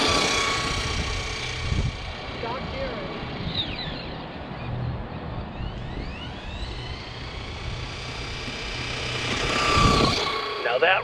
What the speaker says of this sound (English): Now that right there is the absolute blazing fast sounds of the BL-2s system.